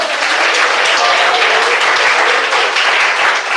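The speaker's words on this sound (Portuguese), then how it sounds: "Rebate palmas." Church congregation at a Pentecostal service clapping together, a dense, loud and continuous roar of palms sustained throughout.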